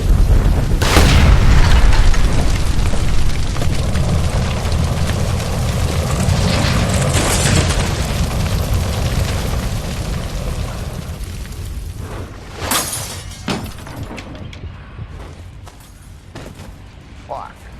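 A huge gas line explosion in the video game L.A. Noire erupts into a long, rumbling roar that fills the scene, with sharp blasts and crackling debris following amid ongoing game audio.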